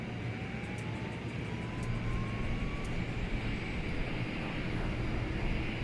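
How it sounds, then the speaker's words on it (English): An airliner's APU spools up in X-Plane 11 on a Delta Airlines virtual flight, a steady loud turbine roar with a faint whine slowly rising in pitch over the first few seconds. "There goes our APU firing up."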